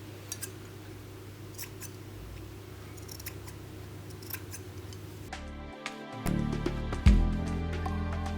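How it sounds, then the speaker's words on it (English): Scissors trimming fabric corners while sewing a top, a few faint crisp snips and clicks over quiet room noise, with handling sounds toward the end. "Actually, I'll just trim these corners."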